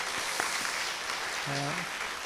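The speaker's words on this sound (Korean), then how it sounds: "다시 한번 박수로 감사 표시하겠습니다." A church audience at a 2013 parenting seminar applauds in a steady, soft wash of clapping heard from a distance, with a brief tonal vocal sound partway through.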